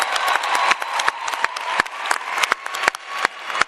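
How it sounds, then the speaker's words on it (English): Applause from an audience at a public event in Botswana, sustained clapping with sharp individual claps popping out, fairly close and lively, continuing steadily throughout with no talk over it. "give yourselves a thunderous round of applause for just being here today"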